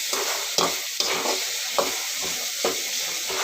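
Tomatoes roasting in a hot pan for bassaru, a continuous close sizzle broken by regular scraping stirs about every half second.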